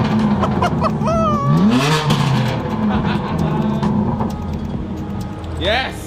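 BMW M4 CS with an Akrapovic exhaust and downpipe revs on a dyno, its engine rising and falling in loud sweeping pulls beneath whirring fan noise, with voices speaking nearby.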